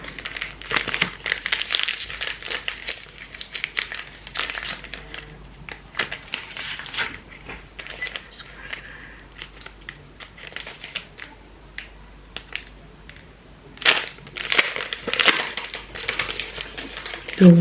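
Broken glass is cleared out by hand, giving irregular bursts of crunching, clinking and crinkling close by, with quieter pauses between handfuls.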